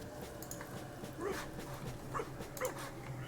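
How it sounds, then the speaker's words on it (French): A zombie dog in the video game Divinity: Original Sin gives a few short barks and yips amid a low ambient game soundtrack, moderately close but not loud. "Zombie dog. Ah oui."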